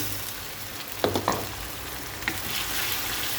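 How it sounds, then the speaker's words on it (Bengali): Prawns fry with softened onions in a pan, giving a steady close sizzle with a few sharp clatters of a spoon stirring, and no talking. "পেঁয়াজগুলো মোটামুটি হয়ে গেছে, আমি এখন চিংড়ি মাছগুলো দিয়ে দেবো।"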